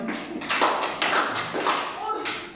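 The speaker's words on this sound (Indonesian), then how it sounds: "Tepuk tangan buat Johanna, Ding" A school class claps for a classmate about to present, a short burst of scattered hand claps rising in several waves, fairly close, with voices mixed in.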